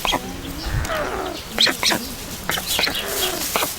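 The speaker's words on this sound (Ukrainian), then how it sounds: "нормальні здорові пташенята, тільки вола порожні" White stork chicks, rescued after falling with their nest, make repeated raspy, clattering calls in short bursts, fairly close, with brief gaps between them and some faint background noise.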